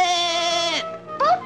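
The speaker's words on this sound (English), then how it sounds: "Bo Peep sheep!" A cartoon sheep bleats loudly in a long wavering call, then a short pause before a second shorter bleat rises, close and clear.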